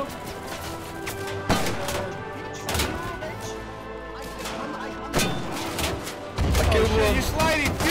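Naval guns ripple firing from a ship in the war game Foxhole, heavy booming blasts landing every couple of seconds, the last ones louder and more sustained, with players talking over the gunfire.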